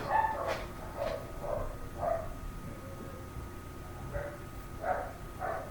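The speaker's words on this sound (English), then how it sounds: "I guess the dogs in the background knew that this guy was going to show up on camera." Several dogs barking off in the background, with about a dozen short, mid-distance barks and yips that come in irregular bursts over a quiet outdoor backdrop, with no talking.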